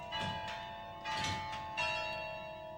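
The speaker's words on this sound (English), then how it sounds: "a huge, toothed, rotating drum that triggers bells in the tower" Tower bells in Greenwich, Connecticut, struck by a toothed rotating drum, chime in sequence, a few ringing strikes with long sustained overtones overlapping into a slow melodic pattern, heard from some distance.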